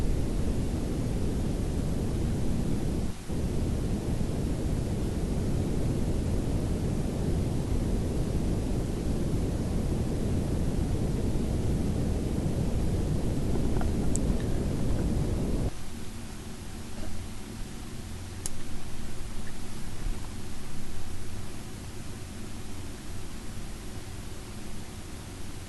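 A lightweight rocket descends through the atmosphere in Kerbal Space Program 2, giving a steady, loud roar of rushing air for most of the run, then dropping to a lower, rumbling hum near the end.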